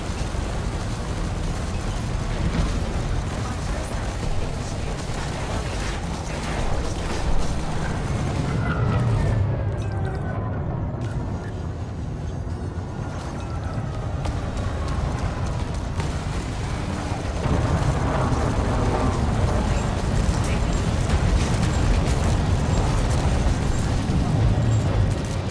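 Spaceship combat in the Elite Dangerous video game in a conflict zone, with continuous rumbling blasts and booming explosions layered over dense laser and engine noise, loud and sustained throughout.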